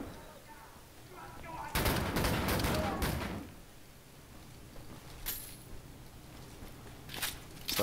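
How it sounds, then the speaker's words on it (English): Dual shotguns blasting in the Wolfenstein video game: a loud burst of rapid, overlapping shots lasting about a second and a half, then a few sharper isolated blasts further on, with mid-level game ambience between them. "I'm really liking the dual shotguns, they just run out of ammo really fast."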